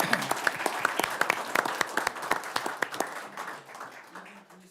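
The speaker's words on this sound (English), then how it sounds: "One more round of applause." A round of applause from a small city council meeting audience, sparse individual claps tapering off over a few seconds, fairly close with light room reverberation.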